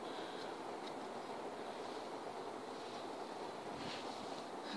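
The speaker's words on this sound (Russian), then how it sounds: "ветер." Wind outdoors on a cold day, a steady low rushing hiss blowing against the microphone with faint gusts rising and falling throughout.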